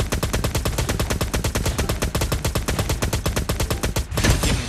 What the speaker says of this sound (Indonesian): Ini shotgun dari jauh itu